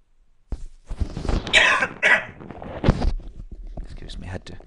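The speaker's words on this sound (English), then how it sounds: "had to cough there for a while" A burst of harsh, raspy coughing, several hacks in quick succession, close to the microphone, followed by quieter breathy rustling.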